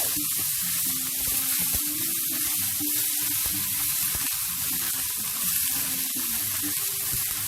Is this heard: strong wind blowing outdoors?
no